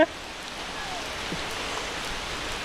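Steady hiss of heavy rain falling on surfaces in the Konkan region, an even wash of sound with no pauses, moderately quiet and constant.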